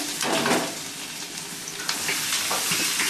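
Garlic, ginger and onion sizzle steadily in hot fat for a moong and masoor dal tadka. The frying is close and continuous, with a few soft stirring scrapes over the hiss.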